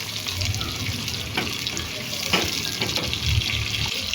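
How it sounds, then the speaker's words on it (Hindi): Onions, tomatoes and green chillies fry together in a pan. A steady, close sizzle runs throughout with a few soft scraping stirs and no talking. "यहाँ हमने टमाटर और हरी मिर्चें जो हैं वो प्याज में डाल दी हैं, ताकि ये भी प्याज के साथ ही ब्राउन हो जाएं, अच्छे से फ्राई हो जाएं।"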